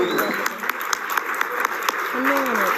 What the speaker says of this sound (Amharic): ወንድማችን ዘገባ እንዴት ነው መድረኩን ሲያጋፍር ደመቅ ያለ ጭብጨባ ነው።